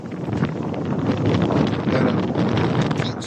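Steady, loud gusts of wind buffet the microphone outdoors near an old barn, a broad continuous roar with no talking.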